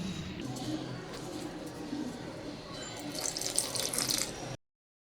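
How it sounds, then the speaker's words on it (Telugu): Water is poured little by little into aloo bajji batter in a bowl, making a steady close trickle and splash that runs for several seconds and then cuts off abruptly. "కొంచెం కొంచెంగా వాటర్ పోసుకొని కలుపుకోవాలండి."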